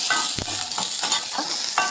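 Onions sizzle steadily in a hot pan for fennel seed chutney, with occasional scraping stirs breaking through the continuous frying hiss.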